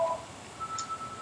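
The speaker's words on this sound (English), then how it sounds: "Excuse the phone background." Faint electronic phone tones, a couple of short beeps and a thin sustained note, sound quietly in the background of a podcast recording with no talking.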